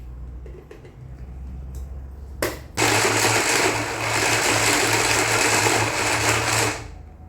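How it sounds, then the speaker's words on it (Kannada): Mixer grinder jar grinding garlic coarsely for homemade garlic powder, a loud high whirring buzz that starts abruptly after a quiet moment and runs steadily for about four seconds before stopping. "ಮಿಕ್ಸಿ ಜಾರಿಗೆ ಕೂಡ ಹಾಕ್ಕೊಂಡು ಇದನ್ನು ಗ್ರೈಂಡ್ ಮಾಡ್ಕೊಳ್ಬೋದು"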